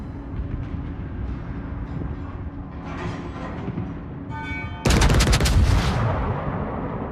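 Naval guns fire on the Queen Elizabeth battleship in a video game battle. A low rumble of distant firing builds, then a loud, sharp salvo bursts in near the end and rings out.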